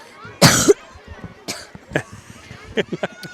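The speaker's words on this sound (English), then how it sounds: "Cough." One sharp, loud cough near the start, followed by quieter scattered vocal sounds and brief murmurs.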